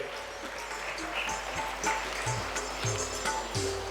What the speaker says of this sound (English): I request all of you to keep the round of applause going